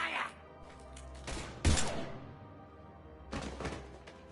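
Bursts of gunfire in the sci-fi video game Mass Effect 3, with a loud volley near the middle and another burst toward the end, over low background hum and faint voices.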